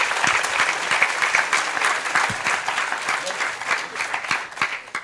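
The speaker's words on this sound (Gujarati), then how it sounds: "એકવાર જોરદાર તાળીઓથી પૂજ્ય સ્વામીને વધાવી લઈશું." A crowd at a religious katha gathering applauds loudly to welcome a swami, with steady clapping that continues throughout.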